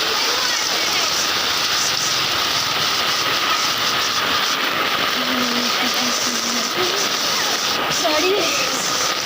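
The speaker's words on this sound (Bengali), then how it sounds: "বৃষ্টি" Steady heavy rain pours down outdoors near a railway line with standing water around, a dense continuous hiss that stays loud throughout, with faint voices and a low mechanical hum beneath it.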